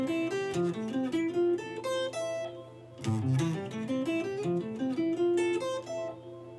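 Guitar plays the first bar of an arpeggio exercise over jazz chords, clean single notes picked in a flowing ascending and descending pattern, close and moderately quiet, alone.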